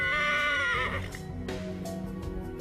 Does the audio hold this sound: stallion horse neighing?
yes